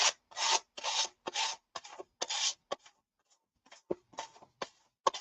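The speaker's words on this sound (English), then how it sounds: "this is an old sanding block, so it's taking a little bit of time to actually sand off my paper" Repeated short scraping strokes of an old sanding block rubbing against a paper edge, in an uneven rhythm with brief pauses, close and fairly crisp.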